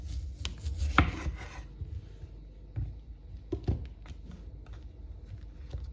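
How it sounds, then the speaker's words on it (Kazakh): A knife chopping a cucumber into cubes on a board for a Greek salad, a few quiet irregular cuts and rubbing scrapes, close but soft, with long pauses between strokes. "Қиярды біз тураймыз, кесеміз."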